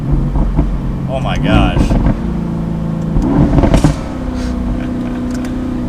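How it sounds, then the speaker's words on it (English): A stock 2018 Mercedes-AMG GT C Roadster's exhaust rumbles and revs loudly up close, with sharp crackling pops breaking through mid-clip while a person exclaims over it. "the exhaust is my favorite part. The pops, that is unreal, that is amazing."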